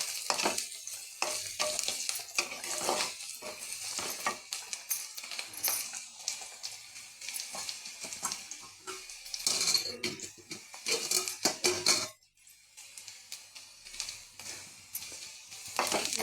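Onion, garlic and curry leaves fry in a pan with a bright, crackling sizzle, broken by frequent metallic scrapes and clinks of a spoon stirring against the pan. The sound is close and continuous, dipping briefly near the end.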